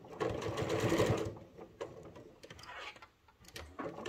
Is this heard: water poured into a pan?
no